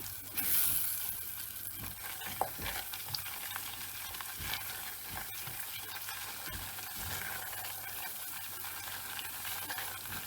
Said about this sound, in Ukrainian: Масло розтопилося, додаю борошно в співвідношенні одне до одного.